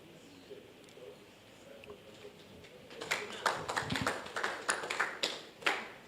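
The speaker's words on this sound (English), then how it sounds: "Round of applause for him." Scattered applause breaks out in a meeting hall, a loose patter of claps that builds and then thins, with a voice talking underneath.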